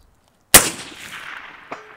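A single sharp rifle shot from a Faxon carbine cracks loudly and rings out, followed about a second later by a faint metallic clang from a steel gong target some 300 metres away.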